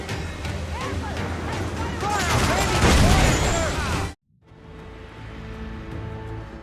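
A dense, rumbling barrage of ship cannon blasts and battle noise in Assassin's Creed IV: Black Flag builds over several seconds, then cuts abruptly to a quieter hum of game ambience.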